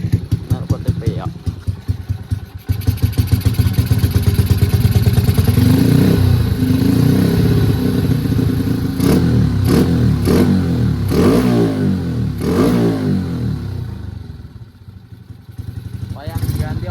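A motorcycle with a dented exhaust runs close by, a loud chugging idle that rises into revs and settles again, with rattly clatter and brief vocal sounds from a person partway through.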